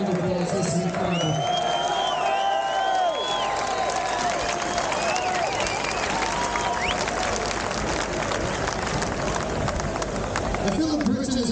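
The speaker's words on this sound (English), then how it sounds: "Give yourselves a round of applause, this is incredible." A large outdoor crowd at a rally cheers and applauds continuously, with whoops and scattered shouts layered over steady clapping and babble.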